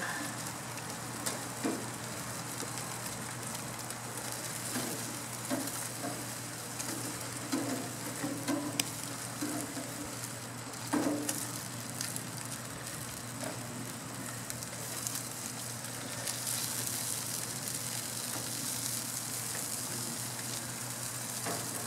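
Tomato basil burgers on a backyard BBQ grill give a faint, continuous sizzle, like light rain, with a few soft pops and crackles scattered through it and no talking.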